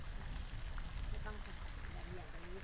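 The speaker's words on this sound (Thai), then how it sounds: "ตอนนี้ฝนพรมมามากขึ้นค่ะ" Light rain falling outside a hut, a soft, steady patter heard faintly from inside, with quiet voices talking over it.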